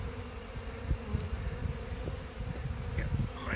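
Honey bees from a 3-lb package being installed into a hive with their queen, a steady, dense buzzing swarm close by, with faint handling knocks underneath and no talking.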